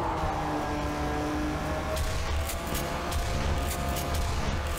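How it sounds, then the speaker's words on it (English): A car engine drones steadily in the racing video game Gas Guzzlers Extreme, mixed with faint game effects and a few short sharp bursts in the middle. "Yeah, I heard a car."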